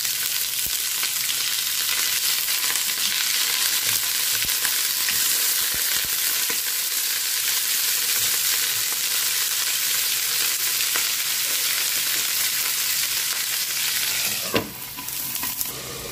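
Raw plain chicken pieces frying in a pan for pineapple chicken adobo, a steady loud sizzle running without a break, with a clatter near the end.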